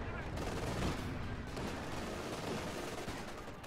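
Dense, continuous gunfire in Company of Heroes 2, aimed at a German Panzerwerfer rocket launcher in an OKW versus UKF battle, forming a steady loud rattle of overlapping shots with no clear gaps throughout.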